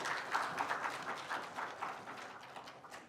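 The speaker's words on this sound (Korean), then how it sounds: "큰 박수 부탁드리겠습니다." Audience applause fills a formal ceremony marking a journalists' association newspaper's 2000th issue, a steady, dense crowd clapping that holds fairly even for a few seconds before easing slightly.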